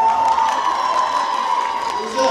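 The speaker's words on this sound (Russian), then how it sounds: "Друзья, эти аплодисменты в вашу честь." A crowd cheers and applauds dance winners at an award ceremony, with loud, dense clapping and whoops filling the space evenly from start to finish.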